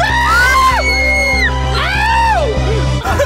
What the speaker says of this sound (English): So it looks like every time I push this button, there's a scream.